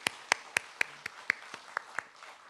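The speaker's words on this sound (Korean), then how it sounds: "우리 주님께 영광의 박수를 한번 줬으면 좋겠어요." A church congregation claps at a dawn prayer service: about nine sharp, evenly spaced claps ring out close and clear over a quiet room, then stop.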